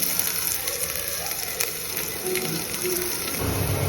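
Onion, garlic and ginger frying in a pan give a steady close sizzle with crackles and a few clinks of a utensil, continuing throughout.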